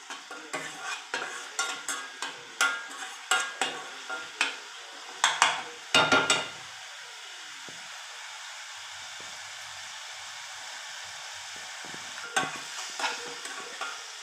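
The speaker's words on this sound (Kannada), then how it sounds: "ಸ್ವಲ್ಪ ಚೆನ್ನಾಗಿ ವಾಸನೆ ಹೋಗೋವರೆಗೂ ಇದನ್ನು ಫ್ರೈ ಮಾಡ್ಕೊಳ್ಳಿ." Spices and turmeric powder frying in a pan for an avarekalu palya, a run of sharp stirring scrapes and sizzling bursts over a steady frying hiss, then mostly quiet sizzle before a few more stirs near the end.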